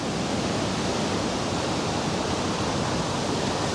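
Strong river current rushes steadily beside a canoe route near Elliot Lake, a loud, continuous broadband roar of flowing water close by with no voices.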